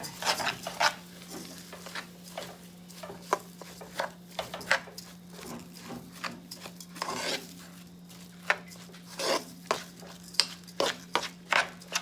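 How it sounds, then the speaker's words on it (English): Rice is stirred in a pan with a utensil, giving repeated scraping and clinking strokes in an irregular rhythm over a steady background hum, with no talk. "And now we're gonna mix our rice together."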